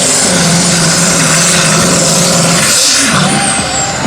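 A small-displacement racing engine, the smallest in its class at a French championship event in Bernay, roars loud and steady throughout, with a brief dip and change in pitch near the end.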